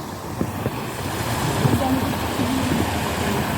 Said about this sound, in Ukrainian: Гірська вода. Ну, я сподіваюся, все чутне через екран. Шум неймовірний.